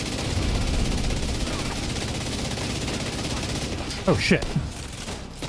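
Dual SMGs fire in rapid bursts in The Division 2 video game, a continuous rattling barrage of gunfire that runs throughout, with a player's brief startled exclamation near the end.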